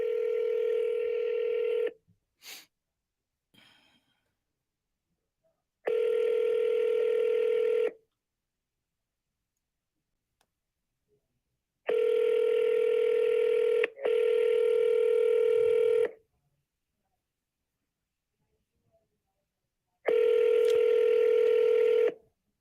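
Sustained telephone tones sound on a call line for back-to-back calls, arriving as about four long steady beeps of around two seconds each, separated by long silent gaps, clear and close with no speech.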